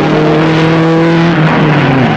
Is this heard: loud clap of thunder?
no